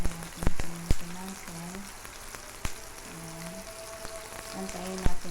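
Tomato sizzling in a hot pan with a soft, steady crackle of frying, broken by several sharp spatters and clicks, close and continuous with no voice.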